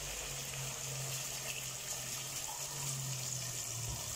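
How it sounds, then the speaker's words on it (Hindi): Water pours steadily into a cooking pot holding mutton, whole spices and bay leaf for mutton korma, a continuous close gushing rush with a low hum beneath, and no speech. "अब हम इसमें पानी शामिल कर देते हैं"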